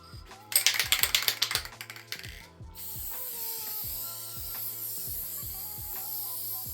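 An aerosol can of Krylon Kamar varnish is sprayed: a quick burst of rapid rattling clicks comes first, then a steady, close hiss over a rhythmic mechanical ticking.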